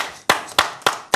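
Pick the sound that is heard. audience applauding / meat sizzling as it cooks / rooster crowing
audience applauding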